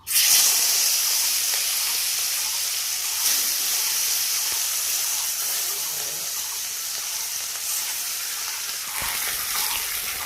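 Steady broadband sizzle of mustard oil in a hot kadai for katla fish curry, continuous and fairly loud throughout with no talking.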